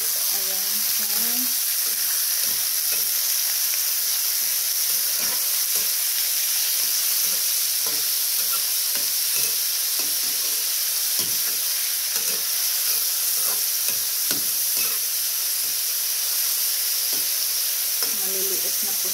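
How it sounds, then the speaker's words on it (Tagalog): Small squid frying in a pan for Filipino adobong pusit, giving a loud, continuous sizzle and hiss with occasional soft stirring clicks throughout. "Ilagay na natin ang pusit."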